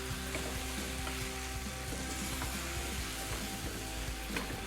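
Potatoes frying in a hot pan, a steady dense sizzle with light crackles and stirring scrapes as they are tossed, close and without talk.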